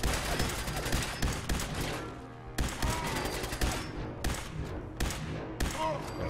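Rapid bursts of gunfire from a first-person shooter video game, loud and sharp, firing in clusters with brief pauses between volleys.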